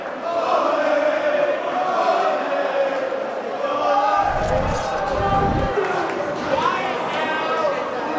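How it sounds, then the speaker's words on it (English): Hockey crowd at a high school varsity game between Middle Country and Northport, cheering a goal with a sustained roar of voices and chatter, loud and continuous, with a few sharp thuds from the rink mixed in. "the crowd to my left is loving it"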